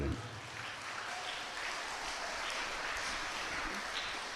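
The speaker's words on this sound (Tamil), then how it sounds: "உத்திரைய ஸ்தலத்தை அனுபவிக்கிறதுக்கும் கைத்தட்டுறீங்க நீங்கள்" A congregation claps during a Tamil sermon, a faint, even patter of hands set back in a reverberant room, continuous throughout with a brief low voice at the start.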